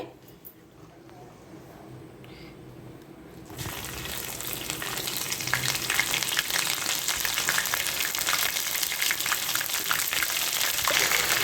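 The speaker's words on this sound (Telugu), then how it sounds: "ఇప్పుడు ఈ అల్లం పేస్ట్ పచ్చి వాసన పోయే వరకు ఫ్రై చేసుకున్నామండి" Ginger paste frying in peanut oil for a chicken pickle starts faint and quiet, then bursts into a loud, dense crackling sizzle that carries on steadily until the end.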